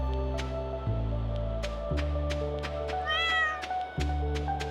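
A cat meows once in the farming game Stardew Valley, a short rising cry over steady game music with repeating plucked notes, fairly close and clear.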